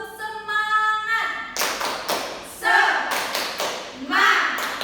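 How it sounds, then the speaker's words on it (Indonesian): Schoolchildren in a classroom do a rhythmic spirit clap, sharp bursts of hand claps and taps landing in a quick pattern between stretches of voices chanting. "Tepuk semangat."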